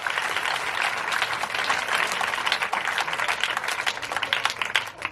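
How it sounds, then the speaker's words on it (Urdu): Church congregation bursting into loud, thankful applause during a sermon, a thick continuous wash of many hands clapping with a little crowd noise, strong and unbroken for the whole stretch. "اس کی شکر گزار زوردار تالیاں"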